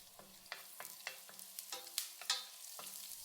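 Cumin seeds and curry leaves fry in sesame oil in a pan. A steady sizzle runs under a string of quick scraping stirs from a spoon against the pan, with no talking.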